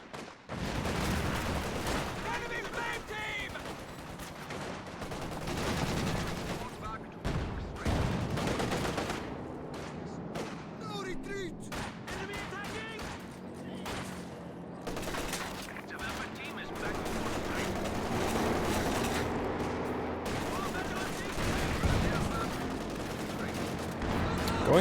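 Tank cannon blasts and bursts of machine-gun fire from a World War II tank video game with a Panzer IV and a T-34, rapid volleys and heavy booms layered under commentator talk throughout.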